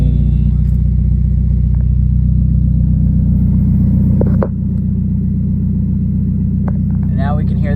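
Engine of a 1991 Mazda Miata running after a fuel pump replacement, a loud steady low idle drone that holds evenly, dipping slightly partway through, with brief clicks and a faint whine on top.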